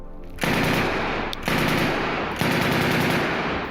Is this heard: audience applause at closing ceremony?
no